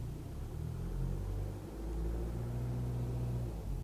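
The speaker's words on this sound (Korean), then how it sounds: "만일 이 상태에서 엑셀을 밟는다면 어느 정도 소음이 나는지 한번 보겠습니다" A BMW 520d M Sport diesel engine is revved to about 2000 rpm while the car sits parked in an enclosed underground garage, heard from inside as a deep, steady rumble that swells partway through and then holds.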